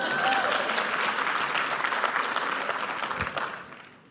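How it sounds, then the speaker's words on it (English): Steady applause from a large crowd at a conference plenary session, dense clapping throughout that fades slightly toward the end. "You can applaud."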